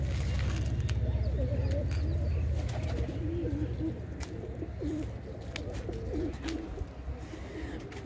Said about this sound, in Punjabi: ਇਹ ਜੀ ਕਬੂਤਰ ਹੁਣ ਆਪਣੇ ਜਿਹੜੇ ਬਾਹਰ ਆਏ ਹੋਏ ਨੇ, ਇਸ ਟਾਈਮ ਚੁਗਣ ਲਈ ਜਾਲੇ ਦੇ ਵਿੱਚ ਆ ਜਾਂਦੇ ਨੇ।